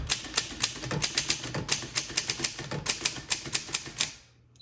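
Keys clack steadily on a Voss ST24 vintage typewriter, a rapid, uneven run of sharp, close strikes that stops abruptly near the end, leaving quiet.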